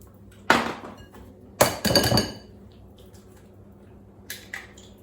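Two eggs go into a Weetabix cake batter: sharp cracks against a bowl, a wet squishy spill after the second, then a light clink near the end.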